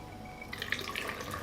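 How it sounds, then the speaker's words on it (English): Water is poured into glass jars packed with tomatoes, making a soft, continuous splashing and trickling that brightens and fills out partway through. "I pour water into the jars to cover the tomatoes."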